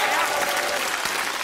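Studio audience applause on a Norwegian talk show, a steady dense clapping wash filling the whole moment at an even, sustained level with no voice above it.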